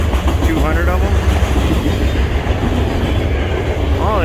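Loaded freight train rolling past up close, loud continuous rumble and clickety-clack of railroad cars with occasional wheel squeals, someone talking briefly over it.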